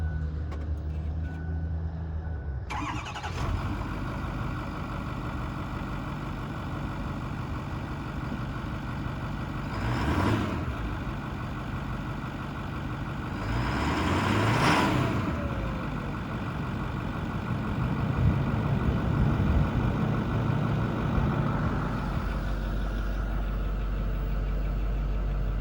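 A 2008 Ford F450 truck engine cranks over and starts, then settles into a steady, loud idle close by, with the rumble swelling briefly a few times before holding level.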